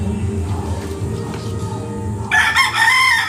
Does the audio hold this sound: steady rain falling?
no